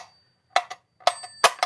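The bell on a wind-up mechanical metronome dings, sharp ringing strikes mixed with ticks, one early, then a cluster of bright, close hits in the final second.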